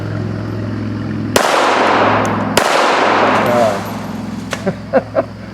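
A tiny pocket-sized handgun fires at targets outdoors: two sharp, loud shots about a second apart, each ringing out, followed by a few faint thumps and brief voices.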